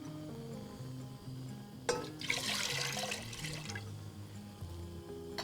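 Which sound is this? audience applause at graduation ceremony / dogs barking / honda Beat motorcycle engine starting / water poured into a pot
water poured into a pot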